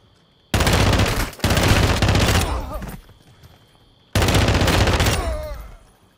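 Bursts of automatic gunfire in Warzone 2.0 DMZ, a long rapid volley, a brief gap, then another sustained burst, loud and close, with a quieter tail between.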